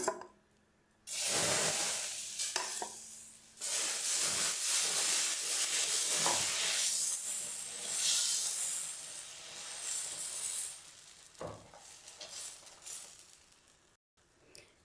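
Batter for a puffed-rice and moong dal dosa hisses and sizzles in oil on a hot pan, with a steady bright frying sound that swells and fades over several bursts.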